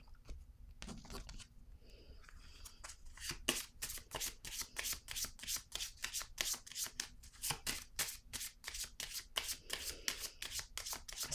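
Playing cards being shuffled at close range, a rapid run of crisp riffling snaps in a fast, even rhythm lasting several seconds, after a few quieter handling sounds.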